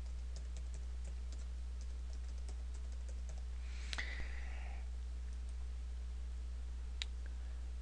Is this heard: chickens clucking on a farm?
no